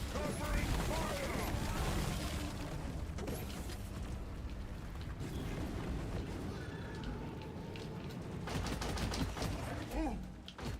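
Rapid sustained gunfire in the video game Deep Rock Galactic, dense automatic bursts running nearly continuously alongside mechanical clatter and game noise, with voices talking over it.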